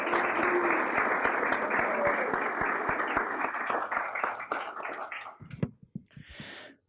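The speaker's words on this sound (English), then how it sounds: "if we may applaud for the instructors who have done a great job preparing our students" An audience at a university speech showcase applauds the instructors, a dense steady round of clapping that thins out and fades toward the end, with a few last scattered claps.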